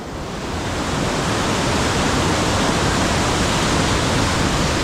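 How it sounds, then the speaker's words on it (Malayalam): River water rushing near Kallanchira dam, a loud, steady broadband roar of flowing water that swells slightly in the first second and then holds constant, with no voices. "ആ പുഴ ഇങ്ങനെ വന്നിട്ട് ഇത് അങ്ങോട്ടുള്ള പുഴ ഇങ്ങനെ പോകുന്നൊരു സീനാണ്"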